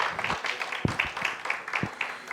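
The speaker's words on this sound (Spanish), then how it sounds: "Dale un aplauso al Señor en esta mañana" Church congregation applauding during a Sunday morning service, a short burst of brisk clapping from a modest crowd, fairly close, with some voices mixed in.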